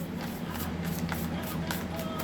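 Tarot cards are shuffled with soft papery riffling, a few quick flutters close by over a steady background hum.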